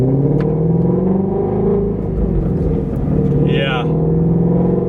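Exhaust from a Shelby GT350 with the resonators deleted rumbles steadily from inside while driving, a deep continuous drone that swells briefly with throttle, with a person talking over it.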